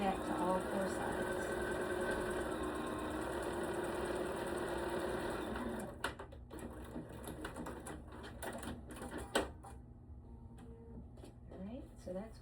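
A sewing machine stitches along turned-under fabric edges with a steady, close mechanical whir for about six seconds, then stops, leaving scattered clicks and handling sounds; a voice talks quietly throughout.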